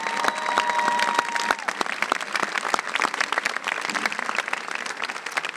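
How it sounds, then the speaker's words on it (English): Sustained applause from a graduation ceremony audience at Redlands High School after a performance by an honor orchestra, a dense steady crowd clapping that runs throughout and eases slightly toward the end. "Now, let's give them a round of applause."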